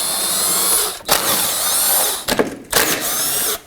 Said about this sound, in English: We're going to start with our 10mm socket and remove these three 10mm bolts on the front portion.